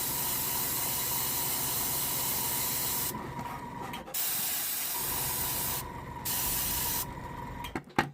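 Airbrush spraying Admin Grey paint onto a Goliath rock grinder model: a loud, close, steady hiss broken by several short pauses as the trigger releases, ending with a small clatter, no talking.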